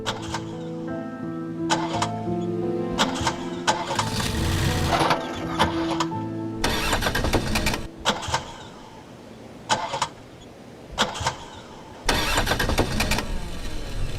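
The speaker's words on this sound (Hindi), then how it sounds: "इंजन में कोई मसला है।" A car engine with a fault is cranked repeatedly, the starter whirring in several bursts of grinding, rhythmic turnover that never catch, with short pauses between attempts.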